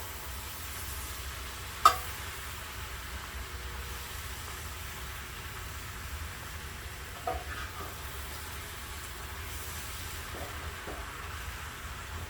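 Toasted onions fry in a pan with a faint, steady sizzle, broken by a couple of soft utensil clicks and no voices.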